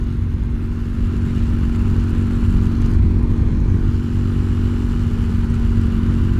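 A budget bobber motorcycle with a retuned carburetor and modified carb slides pulls through a third-gear roll-on, its engine a steady, loud, continuous drone with no voices.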